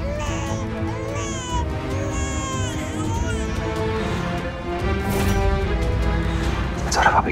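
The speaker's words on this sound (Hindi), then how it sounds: "बच्चे के रोने की आवाज कहाँ से आ रही है?" An infant cries in wavering, rising wails over a dense, continuous background of other sound, fairly loud and steady throughout.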